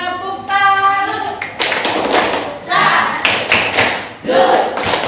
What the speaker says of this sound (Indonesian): yuk kita beri tepuk salut